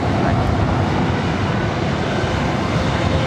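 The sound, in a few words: airplane taking off at LAX airport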